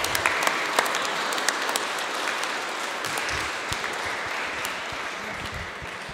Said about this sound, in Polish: poprosimy jeszcze raz o oklaski dla tych oto artystów